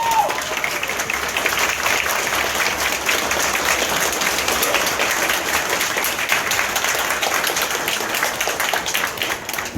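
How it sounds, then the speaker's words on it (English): An audience at an event in London gives a round of applause, dense sustained clapping from a crowd that carries on steadily for about ten seconds. "So please can everyone give a round of applause for Dennis."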